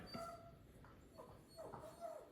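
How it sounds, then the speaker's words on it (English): A dog whimpers faintly in the background of a home kitchen, a few thin, high whines and yips spread over two seconds against quiet room noise. "you can hear my dog in the background"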